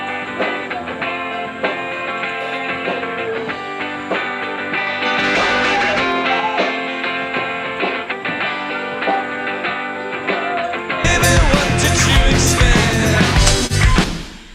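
Clean electric guitar run through the Waves Driver one-knob plugin, adding slight grit within a full live band mix that swells and grows busier with crashing cymbals toward the end, no talking.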